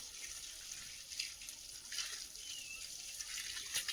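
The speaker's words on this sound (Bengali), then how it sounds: "জল একদম ভিজিয়ে জল দেবো আজকে" Water pours steadily over garden soil, soaking marigold seedlings and young plants, with a continuous high hiss of flowing water and a few brief splashes, close and moderately quiet with no talking.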